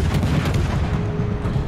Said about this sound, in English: Salvo's away on what looks like a St. Louis.